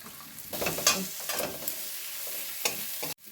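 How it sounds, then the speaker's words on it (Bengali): Chopped tomatoes go into hot oil with fried ginger and garlic and spices, and the pan sizzles loudly and close, with bursts of stirring scrapes over a continuous frying hiss for a few seconds. "আমার আদা রসুনটা ভাজা হয়ে গেছে, ছোট করে কুচিয়ে রাখা টমেটোগুলো দিয়ে দেব"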